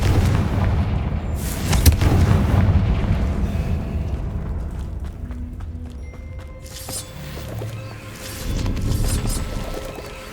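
The Confringo blasting spell going off in Hogwarts Legacy, a series of deep booming blasts with rumbling tails, the strongest near the start and another swelling late, loud and heavy.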